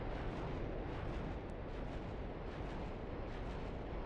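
Artillery repeater barrage in the Voltz video game, a dense continuous rumble of rapid distant blasts that stays loud and unbroken throughout, with no speech.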